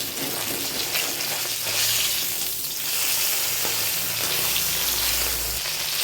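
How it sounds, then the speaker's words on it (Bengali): Fish fries in oil with a loud, continuous crackling sizzle that swells and eases slightly, close by, with no talking. "এইভাবে আর একটি ভেজে নেব মাছটা ভাজা হয়ে গেছে"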